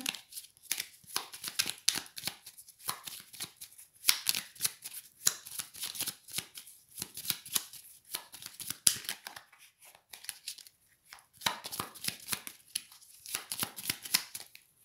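Tarot cards are shuffled and cut by hand in steady bursts of crisp riffling and slapping, close and fairly quiet, with short pauses between runs and no talking.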